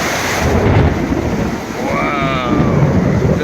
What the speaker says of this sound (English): Wow, that was about a mile away